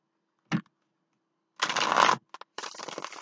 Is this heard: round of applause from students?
no